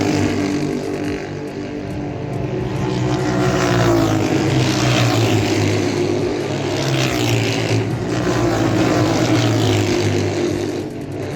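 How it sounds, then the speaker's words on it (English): MotoAmerica superbike engines at a race track, a loud continuous roar of several machines revving and racing past, rising and falling in pitch without a break, close and dominant with no talk. "I really like the rev of the engines right before the start, and then you after lap 1 you see them whip by real quick."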